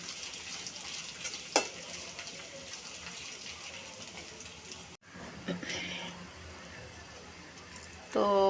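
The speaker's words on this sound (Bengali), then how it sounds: "নেড়ে ছেড়ে পেঁয়াজ কতক্ষণ কষিয়ে নিব।" Onions fry in hot oil in a kadai, a steady close sizzle broken by scraping stirs and a sharp clink or two, with a voice heard only at moments.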